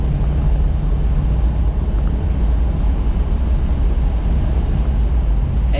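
A Chevrolet Corvette C8 with a non-performance exhaust, its engine giving a loud, sustained low roar throughout with no talk.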